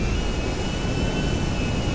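Airplane engine during flight in the video game GTA V, a steady loud roar of jet noise with a thin high whine, continuous and unbroken.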